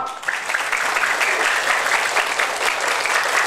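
Students at a Maulid celebration in an Indonesian madrasa clap together in a loud, sustained burst of dense applause that continues steadily throughout without pause.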